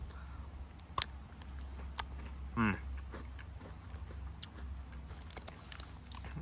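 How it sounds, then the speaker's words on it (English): A single crisp bite into a crunchy chocolate cookie from a 1990 US military MRE, a short burst of crackling, with faint chewing and quiet room noise around it. "It's sweet, it's crunchy"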